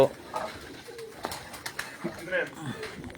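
Soft pigeon coos and rustling close by on a rooftop in Punjab, with faint background voices and a few light clicks.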